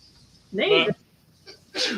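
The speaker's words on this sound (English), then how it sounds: "Everybody's sneezing now." Two people sneeze at a table during a keto pizza casserole and bagel bites tasting: one loud, close sneeze, then a short pause and a second sharp burst, with people talking around them.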